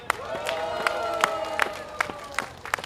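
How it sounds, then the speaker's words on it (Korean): An audience at a Democratic Party rally in North Chungcheong claps for the party leader, with rhythmic, fairly loud unison clapping in regular beats under crowd noise and a sustained tone. "대표님께 큰 박수 부탁드립니다."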